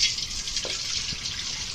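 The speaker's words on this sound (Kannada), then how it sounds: "ಈಗ ಇದಕ್ಕೆ ನೀರು ಹಾಕೊಳಕತ್ತಾರ" Water runs steadily into a pot on a gas stove, a soft continuous splashing hiss with a faint drip or two, fairly close and without speech.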